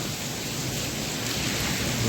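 Heavy rain pours down just after a hailstorm, a dense, loud, unbroken roar of rainfall filling the scene without letup.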